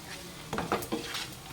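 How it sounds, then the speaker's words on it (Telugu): Ginger and garlic stirred in a cooking pan for a Konaseema-style dried fish curry, a spoon scraping and clinking against the metal a few times close up, with a soft sizzle underneath and no talking. "అల్లం వెల్లుల్లి వేసిన తర్వాత బాగా కలపాలి."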